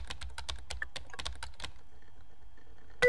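Keyboard typing in the video game Emily Is Away 2: a quick close run of key clicks and taps for about two seconds, then stopping, with no talk.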